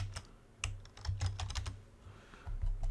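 Quick, irregular taps on a computer keyboard click at close range and fairly soft, with short pauses between bursts of keystrokes.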